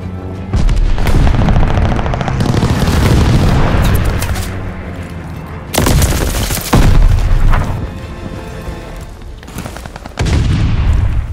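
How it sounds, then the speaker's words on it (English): Heavy airstrike explosions and gunfire in the multiplayer shooter Call of Duty Vanguard, loud booming blasts that recur in separate bursts with sustained rumbling between them. "Friendly sending an airstrike"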